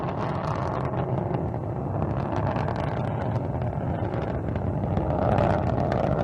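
Soyuz rocket engines roaring during a launch from Baikonur, a steady rumbling broadband roar with a gusty, wind-like texture, continuous and fairly loud throughout.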